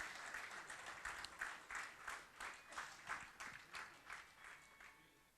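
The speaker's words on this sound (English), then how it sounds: "A big round of applause for the committee of Colosseum Group anniversary who has done this." An audience at a Colosseum Group 14th anniversary event applauds the anniversary committee, a steady wash of many hands clapping at some distance, fairly faint, with rhythmic swells.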